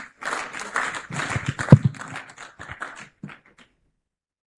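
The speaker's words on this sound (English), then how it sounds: "can we give the panelists a big round of applause for the wonderful job" Audience applause for panelists at a microfinance bank CEOs breakfast forum: a modest patter of hand claps that thins out and stops, leaving silence at the end.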